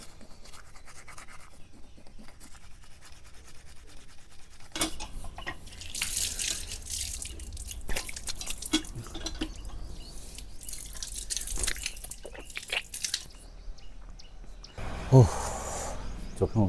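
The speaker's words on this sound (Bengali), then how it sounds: "চোখে মুখে সকালবেলায় জল দেওয়া" Water splashes and drips at a sink as someone rinses their face in the morning, with bursts of running water, intermittent splashing and faint background noise, close and moderately loud.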